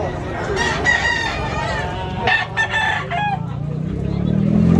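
Close roosters crow repeatedly at a bustling poultry market in Tabunok, Talisay, Cebu, with clucking and chatter from buyers and sellers underneath throughout.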